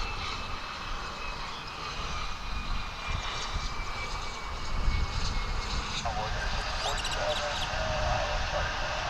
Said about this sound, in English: That's an Embraer 145, coming in from Garden City.